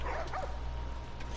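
Dogs in The Last of Us Part 2 give a couple of short, faint barks and whimpering yips early on, over a low ambient hum with no talking.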